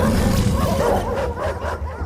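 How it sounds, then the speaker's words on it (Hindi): Several dogs bark and yip in a loud, dense burst, overlapping cries spread across a short stretch with a noisy crowd-like wash behind them. "200 भूखे कुत्ते कंटेस्टेंट्स रोलर ब्लेड्स पर सवार।"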